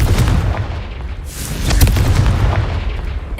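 Blasting Confringo spell bursts in the Hogwarts Legacy game, a loud booming explosion with a sharp crack near the middle over a continuous rumbling low roar, no voices.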